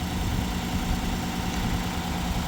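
A truck engine idles steadily during a battery monitor charging test, a constant low rumble with mild vibration, close and unchanging throughout, with no voices.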